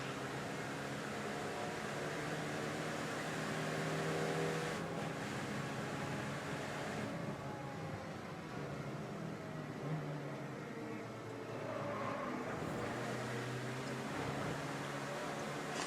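A racing car on its flying lap during a qualifying session at Donington Park, its engine a steady droning hum at moderate distance, with gear-change pitch shifts and no voices.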